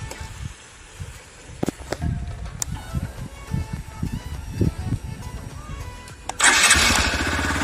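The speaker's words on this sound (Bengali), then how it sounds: "আপনারা এই বাইকটার কিছু সাউন্ড শুনেন, আপনারা আমি সাউন্ড শুনাই।" A newly bought motorcycle, a Hero Splendor Plus, sputters and catches as the engine starts, with uneven bursts building into a louder, steadier running roar at the end, up close.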